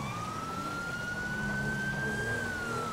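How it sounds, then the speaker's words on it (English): Police siren in a GTA roleplay game, a steady wailing tone rising and falling slightly, continuous and moderately loud over a low engine rumble. "Oh, I hear sirens."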